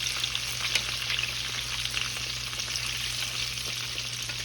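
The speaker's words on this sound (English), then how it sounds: "Make sure your oil sitting at 350. We're just gonna fry them bad boys up." Small shrimp frying in oil at about 350 degrees, a steady, dense crackling sizzle that holds evenly throughout with no voices over it.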